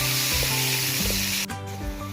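Onions frying in whole garam masala for goat curry over a wood-fired stove, a loud, continuous close sizzle with a faint low crackle beneath, briefly dipping and then resuming.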